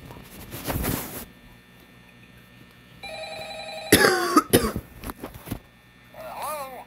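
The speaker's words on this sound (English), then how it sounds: "I've had a cough for a while, so if they sound bad, that's why." A person with a lingering cough coughs in a couple of short, harsh bursts near the microphone. A ringing tone and some other scattered sounds occur around them, and no speech is evident.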